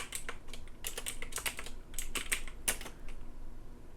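A command is typed on a Windows computer keyboard in a quick, uneven burst of close, crisp key clicks, with short pauses between clusters and a faint background hum.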